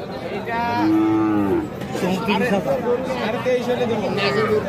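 A heifer calf moos loudly up close, with a second lower moo following, while several people chatter in the background at a cattle market.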